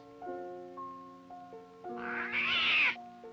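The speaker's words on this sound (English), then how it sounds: "I won't hurt you, Kitty. Don't be scared of me" A cat meows several times over soft background music, the final meow louder, higher and drawn out.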